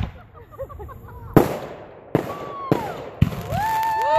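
New Year's fireworks go off in four sharp, loud booms. Whistling and crackling tails follow the booms, and people can be heard talking and cheering in the background.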